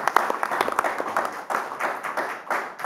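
Audience applause at a Democratic Party leadership candidates' debate forum, a scattered, moderate patter of clapping with a few sharper claps standing out.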